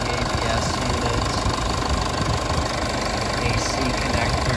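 A 2014 Mercedes-Benz GLK250 Bluetec diesel engine idling up close, with a steady, loud clattering knock and constant rumble throughout.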